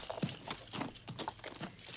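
Horse hooves clip-clopping as a theatre sound effect, a steady walking rhythm of hollow knocks, close and moderately loud with no talk over it.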